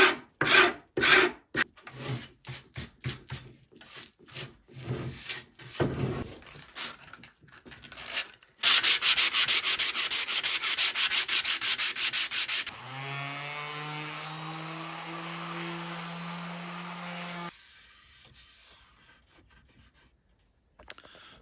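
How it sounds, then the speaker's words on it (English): Old wooden barrel staves scraped to clear off loose material on a Portuguese homestead, a run of sharp rasping strokes up close, then a longer continuous scrape and a buzzing tonal drone, without talk. "Give it a scrape first,"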